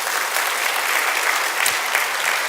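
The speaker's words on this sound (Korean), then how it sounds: "하나님께 영광의 박수 한번 올려드릴까요?" A church congregation applauds during a Sunday worship service, dense steady clapping filling the room, loud and sustained with no speech over it.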